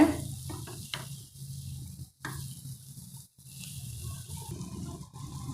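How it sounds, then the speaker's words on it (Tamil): Scrambled eggs frying in a pan are stirred in short bursts, soft scraping strokes over a low sizzle broken by brief pauses, quiet and close. "முட்டையை இந்த மாதிரி கொஞ்சம் நேரம் விட்டு நீங்கள் கலந்து விட்டிங்கன்னா நல்லா பெருசு பெருசாக வருங்க"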